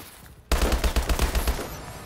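Gunfire in a first-person shooter video game: a loud, rapid burst of automatic shots starting suddenly and firing in quick succession for over a second, then tapering off, with no talking.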